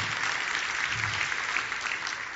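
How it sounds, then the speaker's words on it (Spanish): A church congregation claps in a steady, dense round of applause for their pastor, even and sustained throughout with no talk over it. "Give your pastor a hand."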